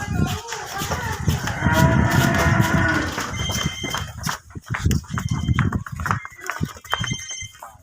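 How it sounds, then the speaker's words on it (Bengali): A large fattened cow lets out a loud, drawn-out moo close by, followed by scattered outdoor bustle and knocks. "দেখেন এই যে বের হয়েছে বিশাল সার গরু একটা"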